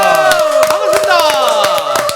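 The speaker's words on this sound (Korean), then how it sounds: "박수로 환영합니다." A studio audience claps to welcome guests on a Korean morning talk show, with sharp, scattered claps over a bright tonal jingle that holds throughout.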